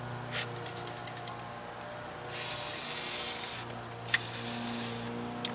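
Spraying and rubbing over a rusty engine intake, with WD-40 being wiped on with a rag; a steady hiss runs throughout, with two louder sustained bursts over a low mechanical hum.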